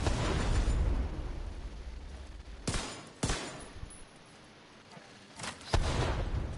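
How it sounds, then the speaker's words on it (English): Explosions and bursts of gunfire from the video game The Division 2, loud and dense at first, then easing into separate sharp blasts with brief lulls between them. "It does a lot more damage because there's a lot more explosions going on around it, right?"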